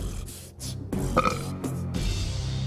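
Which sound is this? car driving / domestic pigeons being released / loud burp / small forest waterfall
loud burp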